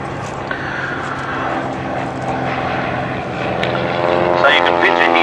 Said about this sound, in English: They've called the observation aircraft in to have a look.